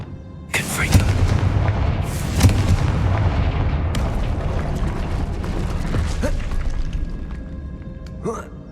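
Confringo explosive spell in Hogwarts Legacy: loud booming blasts and rumbling impacts layered over dense game combat noise, with a voice talking through it.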